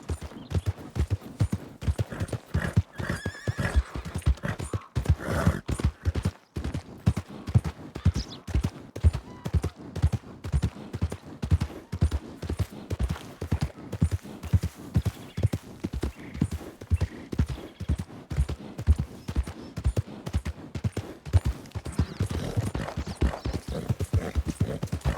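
Horse hooves clip-clop in a steady, close rhythm on a town street in the Red Dead Redemption 2 roleplay world, with an occasional neigh breaking through the repeating footfalls.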